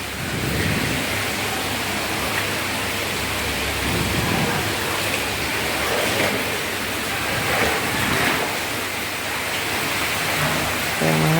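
Dense, steady hiss of heavy monsoon-style downpour in Bangladesh, loud and continuous, with a faint rumble underneath, water running off toward the street.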